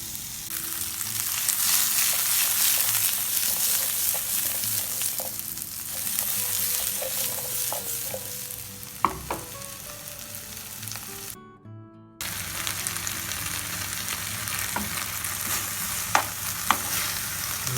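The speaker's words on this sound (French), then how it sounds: "Mettre l'huile et ensuite je vais mettre les saucisses, les oignons que j'ai coupés." Sausages and chopped onions frying in oil, a loud continuous sizzle with occasional clinks and scrapes of a utensil. A brief dropout occurs near the middle, then the frying resumes at full strength.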